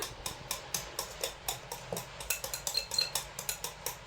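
Egg, banana and refined oil batter whisked by hand in a bowl, giving a quick steady run of light clinking taps against the bowl, close and fairly loud, with no talk.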